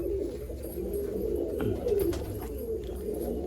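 Low, rolling coos from a large Malwai pigeon in Baruipur repeat steadily through a few seconds, close and continuous, with a faint background hum and no talking.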